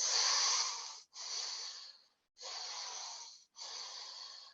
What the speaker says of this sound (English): if you open your mouth but close your teeth and take some big breaths in